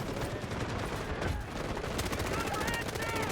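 Rapid automatic gunfire rattles in the shooter game Delta Force, dense bursts of close shots running throughout with a voice talking over them.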